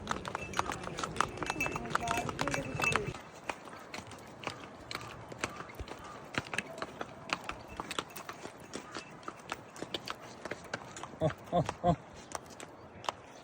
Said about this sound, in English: this is my horse, and horse is taking me to Pahalgam Valley